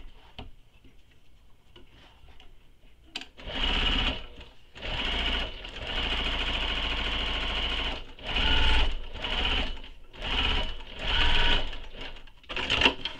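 Sewing machine topstitching along the top edge of a Riva Mini backpack, starting after a quiet pause, then running in a string of close, loud stitching bursts with short stops between them.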